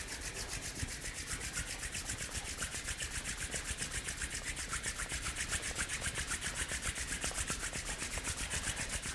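Palms rub briskly together with a steady, close, rhythmic dry swishing that carries on without pause, with no talking.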